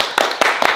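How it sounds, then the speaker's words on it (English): A few people clap for someone in a casual hangout over a fast-food meal: three short bursts of close, sharp claps in quick succession, with no talk over them. "Everybody clap for the chin."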